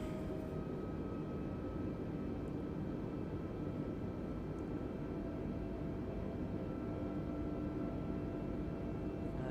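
An Airbus A320neo in Microsoft Flight Simulator 2020 comes in to land with flaps and gear down. It makes a quiet, steady engine drone and airflow rush that holds unchanged throughout.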